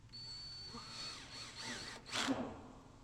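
Powered nut driver set to its lowest setting, driving screws back into an air conditioning unit in short whirring bursts that rise in pitch, the last one louder and closer.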